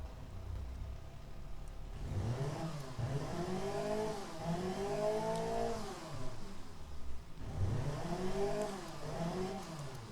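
A BMW engine in test mode in the car-building game Automation starts up, then revs hard twice, rising and falling in pitch, loud and close, with a brief lull between the two revs.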